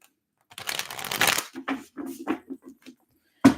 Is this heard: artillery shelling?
no